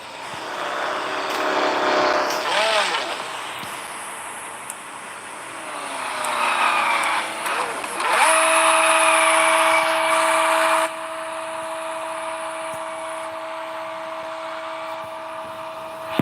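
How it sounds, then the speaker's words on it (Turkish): A car does a tire burnout: a loud, sustained engine roar rises, then settles into a steady, strained drone with a tonal squeal held for several seconds, close by with no talking. "Biraz lastiğimizi yakalım o zaman arkadaşlar."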